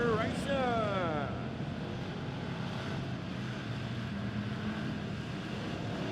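Pure stock race cars racing at Lebanon Midway Speedway, heard as a steady, fairly faint engine drone from the pack, with a voice briefly audible at the start.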